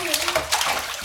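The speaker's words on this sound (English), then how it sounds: "That's good splashing." A child splashes water in a bathtub, with steady broadband sloshing and spatter throughout and an adult voice speaking over it.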